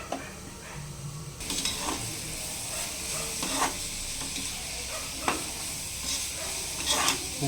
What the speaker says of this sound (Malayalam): അപ്പോൾ നമുക്കൊന്ന് ഇളക്കി കൊടുക്കുക